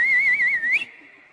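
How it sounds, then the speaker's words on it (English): A whistle blown once during a group crew session, giving a single shrill, warbling blast of almost a second that cuts off sharply. "Whistle."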